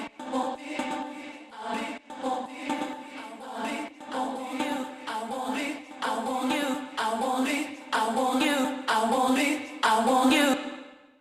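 Tech house track in which reversed vocal chops give way to regular sung vocals over a steady four-on-the-floor groove, the vocal phrases arriving in regular pulsing bursts that grow louder and fuller toward the end.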